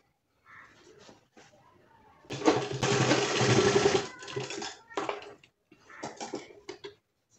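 A sewing machine stitching a seam on a mini bag, with a short burst of fast mechanical whirring in the middle, surrounded by quieter intermittent handling and shorter stitching bursts at close range.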